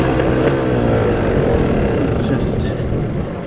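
Motorcycle engine droning loudly while being ridden, a continuous close roar with wind rush that eases slightly toward the end.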